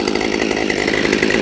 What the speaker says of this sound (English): There's the fire and die